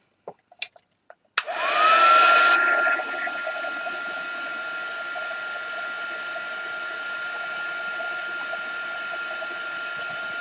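A heat gun blasts loudly for about a second while drying watercolour paint, then settles into a steady, fainter whir with a thin whine that runs to the end, following a few sharp taps at the start.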